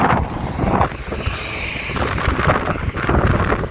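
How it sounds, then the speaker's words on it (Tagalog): Strong wind buffets the microphone continuously outdoors in Japan, a loud rumbling roar with gusty surges throughout. "lakas ang hangin"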